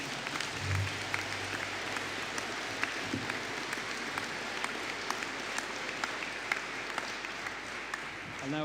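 Sustained applause from the audience at a business and hospitality graduation ceremony, honouring Master of Arts in Accounting graduates. The clapping is dense, steady and even for the whole stretch.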